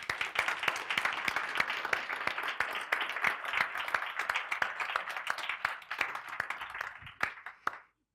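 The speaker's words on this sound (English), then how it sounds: "I feel like we deserve a big round of applause." A conference audience at a software company's tech summit gives a big round of applause. Dense, steady clapping fills the room for about eight seconds, then fades and stops near the end, with no talk over it.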